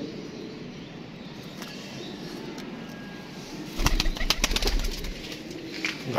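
Pigeons coo softly in a loft, a low murmuring under faint background hiss, followed by a louder burst of rustling and wing flapping near the end.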